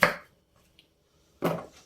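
A knife chops vegetables on a cutting board while a holiday roast chicken is being prepared, two separate close, sharp chops nearly 1.5 seconds apart with quiet between them and no talking.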